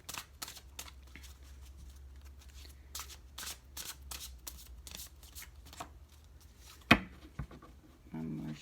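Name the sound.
shuffling tarot cards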